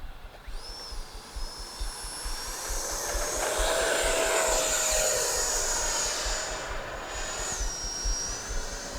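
A small FMS Futura 64mm sport jet RC plane takes off, its electric ducted fan whining up to a loud, high, rising and falling whoosh that holds and then eases off.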